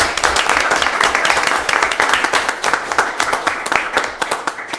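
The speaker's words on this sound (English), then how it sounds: "Round of applause," An audience at a Cache County Council meeting breaks into sustained applause, dense overlapping clapping close by with some voices mixed in, gradually thinning toward the end.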